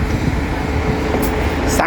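A steady, rumbling Scania engine idles up close, with low mechanical throb and a hum running throughout, no breaks.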